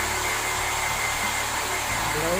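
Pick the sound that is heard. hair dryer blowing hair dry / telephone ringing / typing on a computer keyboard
hair dryer blowing hair dry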